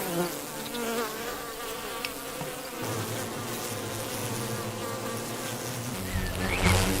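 Dense buzzing of many bees in a hive fills the air continuously, close and steady, with shifting wingbeat tones and no talking.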